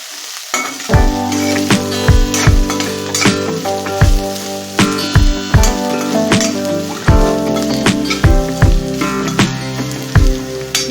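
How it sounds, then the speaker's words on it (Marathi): Fresh coriander sautéing in hot oil crackles with a loud, close, continuous sizzle, punctuated by regular rhythmic clinks of a spoon stirring against the pan. "थोडीशी परतून घ्यायची आहे कोथिंबीर तेलामध्ये कोथिंबीर परतली की छान वास येतो कोथिंबीरचा"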